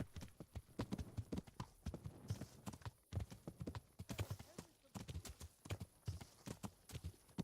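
A stallion's hooves clip-clop in a steady, close rhythm while riding down a mountain in Kingdom Come: Deliverance, with other game sounds layered underneath.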